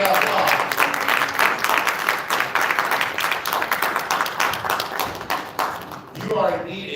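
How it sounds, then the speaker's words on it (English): A crowd at a Detroit China Day event applauds with dense, steady clapping that fills the room for several seconds, then thins and fades near the end. "Give her an applause."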